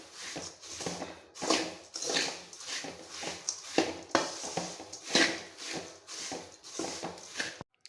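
A spoon scrapes and knocks around a pan while pepper poha (avalakki) is stirred and mixed, in rhythmic bursts of clatter and scraping roughly every half second, close and fairly loud.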